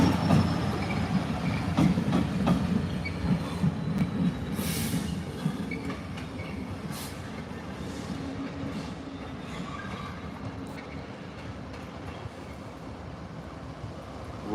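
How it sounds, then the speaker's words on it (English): A Class 66 diesel locomotive train rolls into Cambridge station with a steady rumble of wheels on rails and faint squeals. The sound is continuous and moderately near, fading slightly over time, with no talking. "Class 66 diesel unit."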